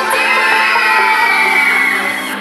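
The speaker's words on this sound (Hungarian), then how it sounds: "Sikítás!" A crowd of children screams and cheers at a kids' show, a sustained loud shrieking roar held for a couple of seconds without pause.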